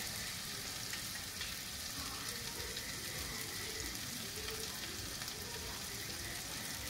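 Ambadi leaves roast in a hot pan for a crab recipe, giving a steady close sizzle and crackle that keeps on without a break, with light stirring under it.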